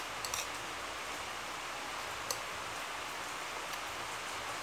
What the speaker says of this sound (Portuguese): Tô escutando o barulho da chuva.